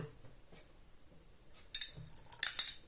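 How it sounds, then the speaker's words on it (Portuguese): Metal spoon clinking against a bowl as potato preserve ingredients are mixed together, two short bright scrapes and clinks after a quiet stretch, close and fairly loud. "agora eu vou juntar tudo aqui dentro e vou mexer"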